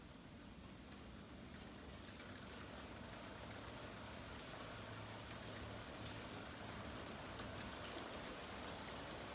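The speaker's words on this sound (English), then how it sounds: "It's starting to rain." Rain falls outside a house, a soft steady patter of drops on surfaces heard faintly and continuously without talk.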